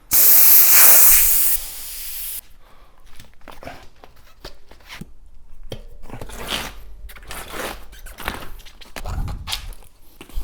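A short, loud blast of hissing air opens as a pump pushes air into a tubeless carbon gravel bike tire, followed by quieter scattered clicks, knocks and handling sounds close by.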